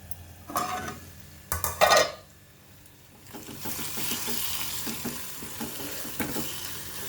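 Cauliflower pieces dropped into hot oil and stirred in a pan for a Telugu cauliflower and tomato masala curry, with a few loud clanks and scrapes early, then a steady close sizzle.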